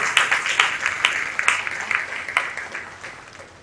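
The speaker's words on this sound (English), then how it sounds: "give a big applause to the khaki-clad guys who are sitting out there" An audience at a tiger day celebration applauds forest guards, with a moderate, somewhat uneven patter of individual claps that gradually thins out.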